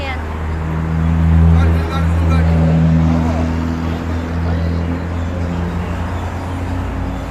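Road traffic by a seaside park near a bridge: a steady low engine rumble from cars passing, swelling slightly as one goes by, with faint crowd noise mixed in.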